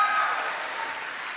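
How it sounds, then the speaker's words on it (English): Audience applause at a horror game awards show, a steady, broad wash of clapping at moderate level that carries on without a break and no voices over it. "An applause for everyone, please."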